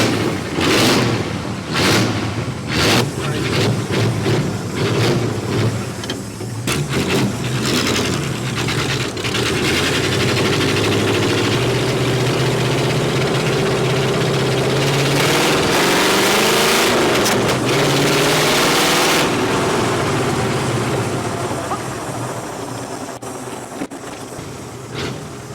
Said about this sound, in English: It's running really rich.